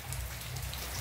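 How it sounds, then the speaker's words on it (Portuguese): Steady rain falls in Caruaru after an hour-long downpour has eased, a continuous close hiss of drops on surfaces with a low rumbling undertone throughout. "Uma hora de chuva aqui em Caruaru. Tava bem forte, agora diminuiu um pouco, mas chovendo."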